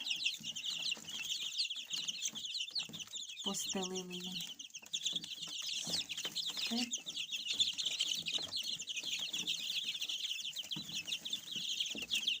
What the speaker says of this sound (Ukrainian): хочу показати вам курчат. Це наші перші курчата.